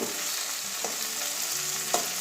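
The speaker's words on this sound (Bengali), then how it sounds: "এবারে ঢাকনাটা খুলছি আলুটা ভাজা অর্ধেক ভাজা হয়ে গেছে আমার" Potato pieces, half-fried and uncovered in a pan for a drumstick curry, sizzle in an even, soft hiss, with a couple of brief sharper pops and clinks.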